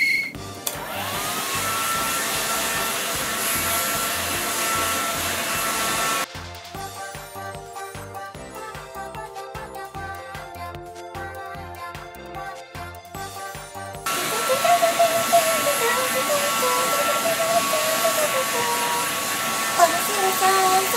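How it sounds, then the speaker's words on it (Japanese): A hair dryer blows a loud, steady, close whoosh while drying long hair extensions. It runs for several seconds, gives way to a stretch of music, then returns as the same continuous roar. "じゃあ今から髪の毛を乾かします"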